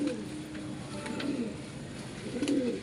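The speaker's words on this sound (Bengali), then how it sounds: "পায়রা খাওয়ানো হয়ে গেলে জল দেবো" Pigeons coo in soft, low repeated calls over a steady background hiss, close by, with no talking.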